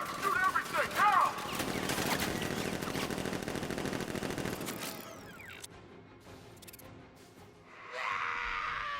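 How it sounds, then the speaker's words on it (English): Rapid automatic gunfire from militia in the Batman Arkham Knight video game, a loud dense burst lasting several seconds before fading into quieter rumbling and clatter. "Open fire! Shoot everything! Now!"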